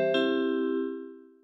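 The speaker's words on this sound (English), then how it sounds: "I've got my 80s chime back up." An 80s-style chime synth patch played in Logic Remote rings out as a bright, bell-like chord with a second soft strike just after the first, then sustains and slowly fades.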